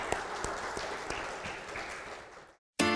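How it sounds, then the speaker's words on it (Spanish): Church congregation applauding during a sermon, a steady wash of many hands clapping at moderate distance, fairly soft, ending abruptly in a short silence. "Démosle un buen aplauso a nuestro amado Señor y Salvador Jesucristo."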